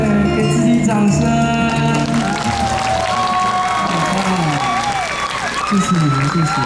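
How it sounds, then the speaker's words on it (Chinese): Applause and cheering from a crowd at an outdoor railway culture festival concert in Chaozhou, Pingtung, with a combined wind band, loud and sustained under lingering musical tones and a singer's vocal line. "掌声！"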